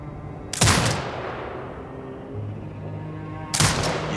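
Two heavy turret blasts from Sniper Ghost Warrior Contracts 2, loud and booming, spaced about three seconds apart, each with a long rumbling decay.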